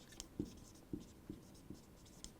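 Chalk or marker writing on a lecture board, with a handful of soft, rhythmic strokes tapping and scraping roughly every half second, faint and close, with no speech over them.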